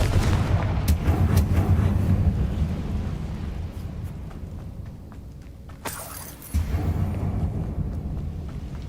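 Confringo spell blasts go off in the video game Hogwarts Legacy, with a few booming explosive bursts scattered over rumbling game ambience and no talk.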